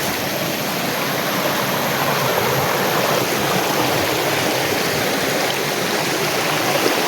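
A forest creek rushes in a steady, loud, broadband wash of flowing water, close and continuous with no talking.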